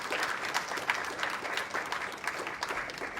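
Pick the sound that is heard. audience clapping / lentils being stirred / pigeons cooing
audience clapping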